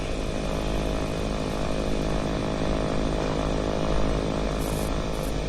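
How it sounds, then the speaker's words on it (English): The propeller engine of a light aeroplane in a banked turn gives off a loud, continuous buzzing drone that holds steady throughout, with no voices. "The aeroplane turns."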